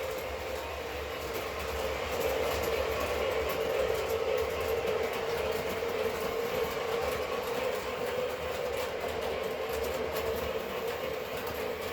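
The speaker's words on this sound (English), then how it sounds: "Of course, we can run two trains." Toy model trains, including a Commodore Vanderbilt locomotive, rolling steadily along a layout track with a continuous close-up rumble and rail clatter that holds level for the whole stretch, no voices.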